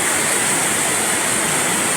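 Water rushes steadily along a canal as a dense, continuous roar like a small waterfall, close and loud throughout with no voices.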